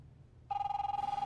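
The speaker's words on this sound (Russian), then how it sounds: "Старый сотовый телефон, значит, дело как-то там... Начало середины 90-х." An old cell phone rings in The Wolf Among Us video game, a steady electronic ringtone that starts abruptly after a brief quiet moment and pulses evenly, loud and close, with no voices.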